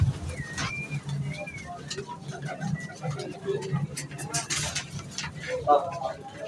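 Several pigeons coo softly at a pigeon market amid people talking nearby, with a few brief bird chirps and rustling in the background.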